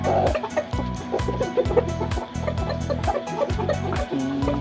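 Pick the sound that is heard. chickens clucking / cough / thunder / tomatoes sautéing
chickens clucking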